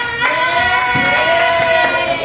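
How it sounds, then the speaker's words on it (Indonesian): Classroom applause for a student during a microteaching lesson, a small group clapping near the mic with distinct hand claps over a faint tonal hum. "Ya bisa beri tepuk tangan kepada Mbak Firda."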